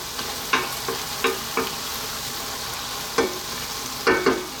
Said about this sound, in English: our spinach is wilted down and given off quite a lot of moisture. Let's get this mixed in.